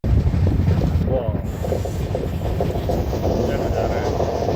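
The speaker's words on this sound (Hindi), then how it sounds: "ये हमारी ट्रेन।" A passenger train running from Goa to Kerala rumbles steadily on the rails past Kuttippuram station, its loud, continuous roar and wheel clatter heard from on board.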